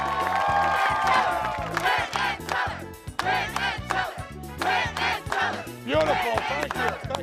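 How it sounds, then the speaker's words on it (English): A loud magic show audience cheers, whoops and claps in a sustained roar that briefly dips midway and then swells again. "you are applauding like you've never applauded before"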